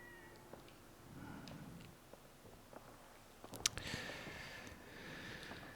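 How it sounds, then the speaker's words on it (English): Cats meow softly and intermittently in the Fallout 4 video game, a few faint calls over a quiet background with brief clicks. "It's got 4 cats."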